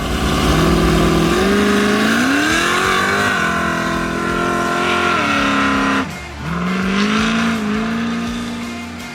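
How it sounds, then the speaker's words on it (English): 1967 Pontiac Firebird restomod with a 461ci engine held on a trans brake, revving loudly and steadily, then briefly dropping before roaring back up as the tires spin in a burnout. "Let's drop it down into first gear, press and hold this trans brake, give it some RPMs"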